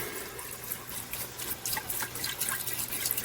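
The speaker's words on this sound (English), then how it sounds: "So we're going to add our chicken stock." Chicken stock pours steadily into a pot of potatoes, a continuous splashing trickle with no voices.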